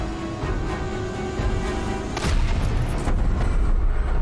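Cartoonish explosions in an Agents of S.H.I.E.L.D. episode, a loud burst of booms erupting over a rumbling background, with a sharp impact near the middle and more thuds trailing after.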